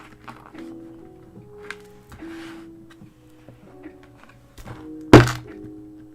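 A Rapesco multi hole punch bites through A5 planner paper in one sharp, loud thunk near the end, after quieter rustling and small clicks of the paper being positioned.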